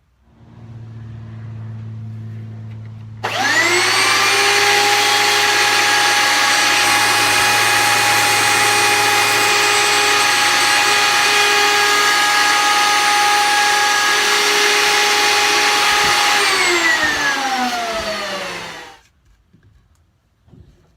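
A power tool carves the neck of a handmade cigar box guitar, starting abruptly after a low hum and running as a loud, steady, high-pitched whine for about fifteen seconds before winding down and stopping.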